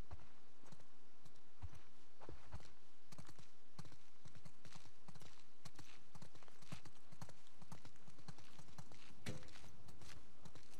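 Horses walk along in The Last of Us Part II, a close, continuous clip-clop of hooves with a brief whinny, and faint voices now and then in the background.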